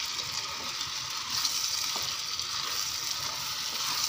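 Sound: vegetable dish being stirred and mixed in a pan

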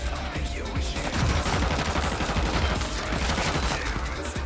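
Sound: gunfire in a video game

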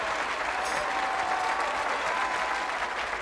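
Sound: audience applause after a magic trick

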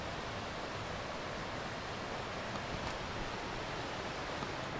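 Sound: distant river flowing below mountain trail

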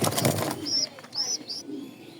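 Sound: racing pigeons cooing

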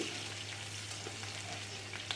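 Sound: bay leaf, green chilies and crushed garlic frying in oil

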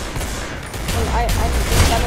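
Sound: gunshots in the video game Arsenal

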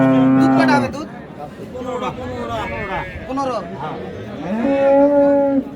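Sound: Friesian cows at a cattle market

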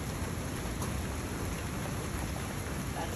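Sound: rain during a thunderstorm

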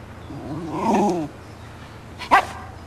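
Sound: dog barking

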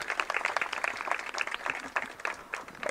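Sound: applause for Anya

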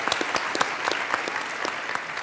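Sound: applause

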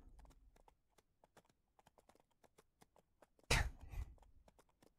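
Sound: horse hooves clip-clopping on evening ride, video game Ranch Simulator

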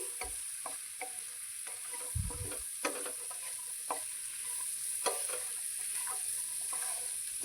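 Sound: boiled pigeon peas (guggillu) frying in oil

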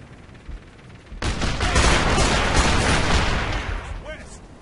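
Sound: gunfire in Operation Flashpoint: Dragon Rising video game

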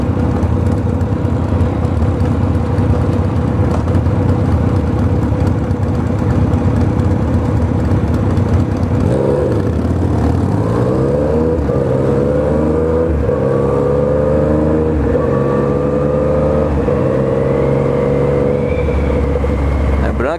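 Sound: loud vehicle exhaust roar while revving

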